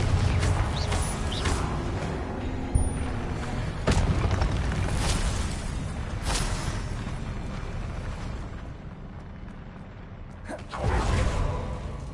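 Confringo fire spells cast in Hogwarts Legacy burst out as loud booming explosions with whooshing blasts, several impacts spread across a dense, continuous game soundscape.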